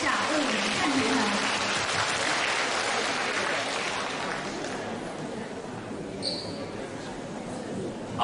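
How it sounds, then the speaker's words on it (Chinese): An audience claps at a 2011 Q&A gathering in Sydney, Australia; the dense applause is loud at first, then thins and fades toward the end. "让我们再次用掌声感谢卢军宏台长为我们看图腾"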